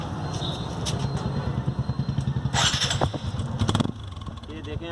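Bajaj Apache RTR motorcycle being started, with talk over a low engine rumble, a clattering crank and then uneven revving bursts before it settles to idle.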